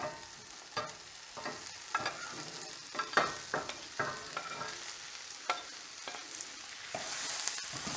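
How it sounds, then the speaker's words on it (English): Potatoes and onions for a steak and eggs hash stirred in a cast iron skillet, a quick run of scraping, clattering strokes over a soft sizzle, close up and without speech. "Stir that up."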